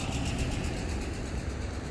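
A 2020 Ford Mustang EcoBoost Premium idles steadily nearby, an even, moderate engine drone with a low rumble and no revving.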